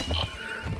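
A horse whinnies in the medieval combat game Mount & Blade during a jousting match, a short high neigh heard close with low game noise beneath.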